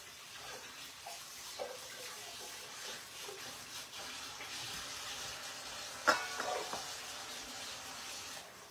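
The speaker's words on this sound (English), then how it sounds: "I'm gonna rinse my hands and grab some more water" Tap water running into a kitchen sink while hands are rinsed mid sourdough prep, a soft, steady splashing flow that is fairly quiet, with one brief clatter near the end.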